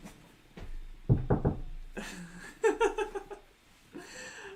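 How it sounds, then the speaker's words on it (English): A quick cluster of three or four close knocks on wood, loud against a quiet room, followed by soft breathing and faint laughter. "Knock on wood."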